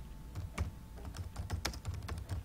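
Fingers tap out HTML paragraph content on a computer keyboard in quick, uneven bursts of clicks, close and clear with no voices over them.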